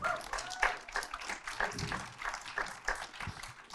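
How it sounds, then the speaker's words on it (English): An audience seated in and around an outdoor tent at a talk on Gaza breaks into lively applause, with sharp individual claps mixed into a thick, uneven wash of clapping. "Round of applause, please."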